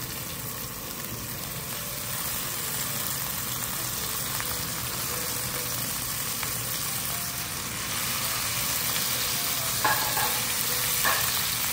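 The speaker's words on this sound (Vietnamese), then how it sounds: "Mình chiên cho nó săn chắc cái cá ha." Fish fillet sears in oil in a clay pot, a steady soft sizzle and crackle that holds evenly throughout, heard alone without voices.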